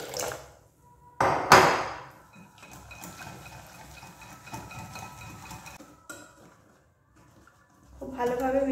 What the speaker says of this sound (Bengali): খুব ভালোভাবে মিশিয়ে নিতে হবে। সামান্য পরিমাণ জল অ্যাড করে দেব।